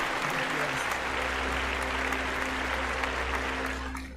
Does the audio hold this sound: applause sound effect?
yes